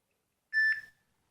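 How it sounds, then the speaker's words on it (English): A single short electronic notification beep from a NO.1 S8 mini mobile phone, clean and tonal, sounds once in otherwise quiet surroundings. "Just a beep. Nothing but a beep."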